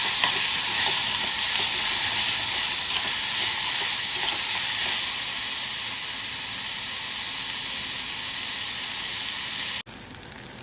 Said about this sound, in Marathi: आपण जो कापलेला टोमॅटो आहे तो सुद्धा घालून घेतो आणि तो सुद्धा असं छान असा परतून घ्यायचा